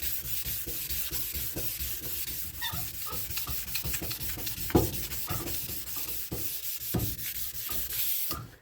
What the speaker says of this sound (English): I'm using the sanding block that I got the little cutout in